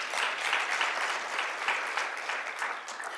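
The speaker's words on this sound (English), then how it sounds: "Please give himself and the panel another round of applause" A live audience at a Southern Africa regional AI forum applauds the professor and panel, steady dense clapping filling the room throughout without any talk.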